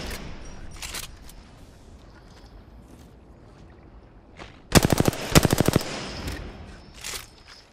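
Automatic gunfire in the battle royale video game Apex Legends: two sharp rapid bursts of shots, close and loud, after a stretch of quieter game ambience with faint scattered sounds.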